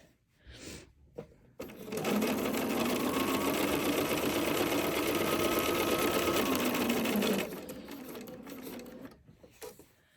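A sewing machine stitches the panels of a crossbody bag, running in one continuous whirring burst of about six seconds, close and clear, with quiet handling sounds before and after.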